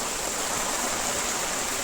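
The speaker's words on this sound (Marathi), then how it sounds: "पाऊस चालू आहे आपल्याकडे जोरदार" Heavy post-Diwali rain pours down in a steady, dense hiss with no breaks, loud and close, with no voices.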